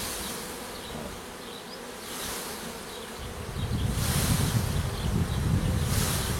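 A honeybee swarm being collected in a village buzzes as a dense, close hum with faint wind noise; the drone swells and grows louder partway through, with no one speaking.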